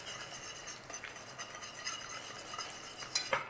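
Sugar being stirred to melt in a pan for a pudding makes quiet, intermittent spoon scrapes and soft clinks against the pan, close and faint, with no talk.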